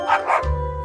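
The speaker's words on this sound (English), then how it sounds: "Dog interrupts soccer game wants belly rubs." A dog in a meme clip about a soccer game gives two quick close barks followed by a low growl or thud, short and loud with no talking.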